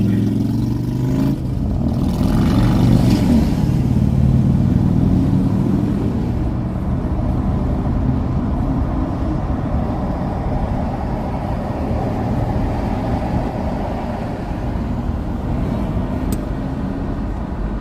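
A long caravan of cars rolls steadily past on a Huntington Beach street, a continuous nearby drone of engines and tire noise with occasional revving swelling above it.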